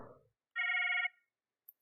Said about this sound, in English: Follow the prompts to answer Maria's phone.